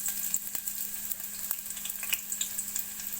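Sliced onions frying in a light film of Fortune oil in a heated pan for kurma, a soft, crackling sizzle with scattered sharp pops and spatters, steady and close with no voices.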